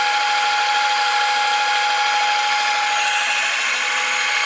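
A lab machine drive with a 6.2 to 1 multiplier spins at 4000 RPM, producing a continuous loud high-pitched whine and hiss, steady and close with no variation and no talk.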